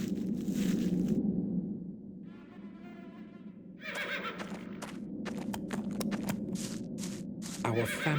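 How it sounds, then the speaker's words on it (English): Horses in a stable in the video game The Black Mirror whinny and neigh amid clip-clopping hooves and shuffling, several calls standing out near and fairly loud over a quiet background. "Water for the horses."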